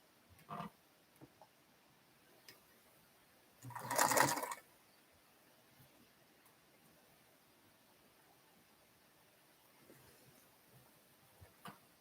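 A sewing machine stitches in one loud burst of about a second, set against a quiet room with a few faint knocks and no talking.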